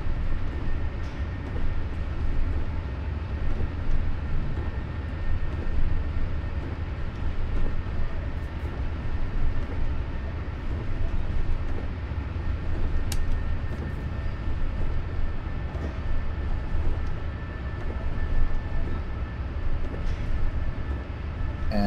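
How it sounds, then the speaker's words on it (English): A diesel locomotive in Train Sim World 2021 on the Feather River Canyon line, accelerating in notch 2. Its engine gives a steady low rumble, with rail noise droning evenly throughout and no talk. "Okay, we are now accelerating in notch 2."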